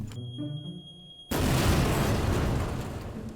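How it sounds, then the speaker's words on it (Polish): A bomb set off with a detonator in a video game: a short electronic beeping tone that cuts into a sudden loud blast, followed by a long roaring rumble that slowly fades. "Detonator! Zobaczymy jak bomba pierdolnie."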